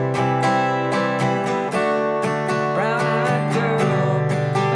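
Acoustic guitar strums a song's chorus chord progression, steady rhythmic strokes with bright ringing chords played alone and close up, with chord changes along the way.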